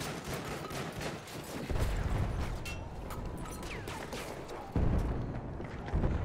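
Gunfire rattles in a World War I battle at Fort De Vaux, with bullets flying: steady, fairly distant shots and bursts with occasional heavier thumps, kept up throughout at moderate volume.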